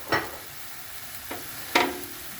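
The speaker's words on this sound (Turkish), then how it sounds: "Hepsini güzelce yağım eriyene kadar tereyağımı kavuruyorum." Butter and finely chopped chestnut mushrooms sautéing in a pan for a meatless lahmacun filling: a soft low sizzle underneath, broken by three short scraping stirs of a utensil against the pan, the last one the loudest.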